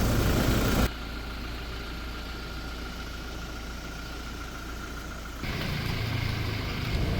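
A 2.4-litre turbo diesel SUV engine idles in a steady, even hum, louder briefly at the start and again near the end, close to the microphone with no speech.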